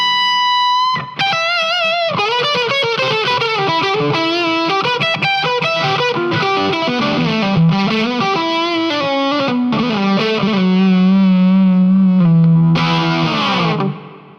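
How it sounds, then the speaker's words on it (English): Fuzzy, compressed electric guitar played through a Line 6 Helix Fullerton amp model and Powercab, heard up close and alone as a continuous run of distorted notes and chords with a sustained closing chord. "It kind of sounds like a fuzz pedal."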